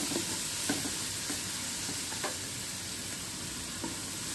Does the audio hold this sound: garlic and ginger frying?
yes